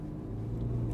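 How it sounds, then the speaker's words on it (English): Audi R8 engine turning over into a low, steady idle rumble, close and continuous through the short moment, alone without talk. "Start the car."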